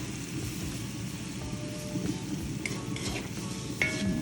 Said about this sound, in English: Let that fry out a little bit.